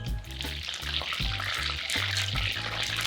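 Battered pork pieces sizzling in hot oil during the first fry for Korean sweet and sour pork tangsuyuk, with a steady bright crackle and a low pulsing hum beneath.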